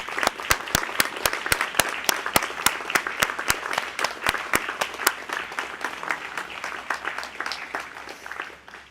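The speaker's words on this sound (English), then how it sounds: "Can I please ask everyone to be upstanding and join me in a round of applause for our graduating firefighters." Sustained applause from an audience at a firefighter graduation ceremony, a steady dense patter of many hands with a few sharper nearby claps, gradually thinning toward the end.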